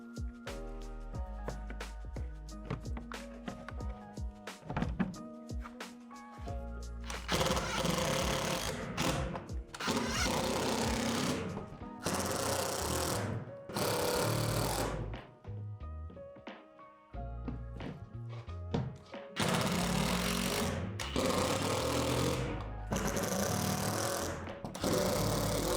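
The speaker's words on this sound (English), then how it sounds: "Then have someone go on the inside and tighten the screws." A power screwdriver drives screws in bursts to fasten the shutter of a Lifetime 8 x 10 foot plastic outdoor storage shed, with whirring runs and knocks, moderately close. Sparse plucked notes play in the opening seconds.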